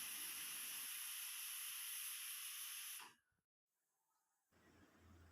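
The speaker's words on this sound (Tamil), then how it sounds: "குக்கரை மூடி நல்லா 4 சவுண்ட் விட்டு இறக்கிக்கலாம்" A pressure cooker of horse gram dal with salt and a green chilli releases steam in a loud, continuous hiss for about three seconds. The hiss then cuts off abruptly into near silence, followed by faint low background noise.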